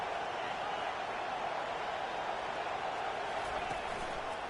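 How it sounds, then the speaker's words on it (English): Stadium crowd at a college football game, Florida against Ohio, makes a steady, dense roar of cheering and noise, continuous and fairly loud with no pauses. "This crowd bringing the energy and noise early."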